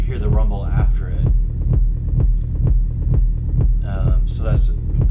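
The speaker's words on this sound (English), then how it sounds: "So every time the kick hits, you hear the rumble after it." Techno kick drum patched in VCV Rack, its rumble swelling after each hit; steady four-on-the-floor thumps with a deep droning tail, loud and alone, with brief bright synth chirps near the end.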